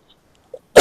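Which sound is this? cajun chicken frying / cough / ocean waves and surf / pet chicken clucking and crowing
cough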